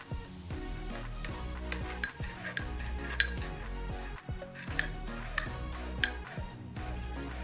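Flour being mixed with slime ingredients in a bowl, with a utensil scraping and clinking against the bowl in repeated close strokes, fairly quiet with no voices.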